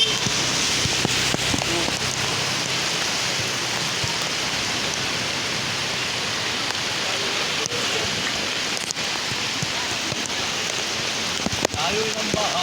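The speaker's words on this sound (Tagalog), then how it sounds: "Tapos bumubuhos pa yung ulan." Heavy rain pours steadily and loudly onto surfaces along a flooding road in San Mateo, Rizal, a dense continuous hiss with occasional sharper drops and knocks.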